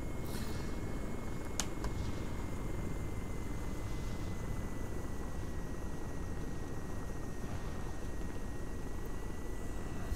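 Steady, continuous drone of a transport helicopter flying in the video game Arma 3, holding an even, loud engine and rotor roar throughout with no voices.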